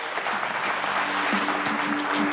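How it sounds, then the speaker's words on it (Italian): Applause for the Chiavari alpine club CAI at a sports broadcast gathering, a brief, steady wash of crowd clapping under faint voices. "un bel applauso al CAI"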